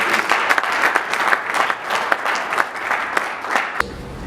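A church congregation applauds loudly and continuously, a dense crowd of hand claps that ends abruptly near the close.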